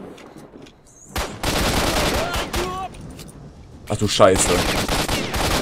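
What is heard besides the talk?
pistol gunfire in video game Stalker: Shadow of Chernobyl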